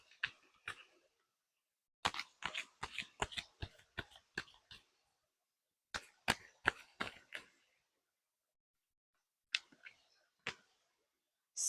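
Tarot cards are handled and shuffled in quiet bursts, a series of crisp close slaps and clicks in uneven clusters with silent gaps between.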